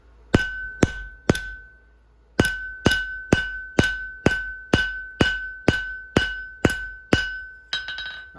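Blacksmith hammering a timber slick blade over the edge of an anvil outdoors, about a dozen loud, ringing metallic strikes at a steady rhythm after an opening group of three, each leaving a bright ringing tail.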